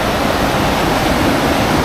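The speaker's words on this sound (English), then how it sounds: "It's not a waterfall, but it is water that is moving at rapid speed." Fast-moving water near Milford Sound rushes in a loud, unbroken roar, close and steady throughout with no voices.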